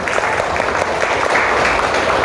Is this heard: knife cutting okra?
no